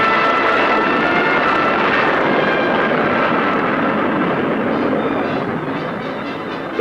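A USAF jet fighter interceptor in 1965 training flight roars steadily, a loud broadband engine rush that holds constant and eases slightly toward the end, with no voices.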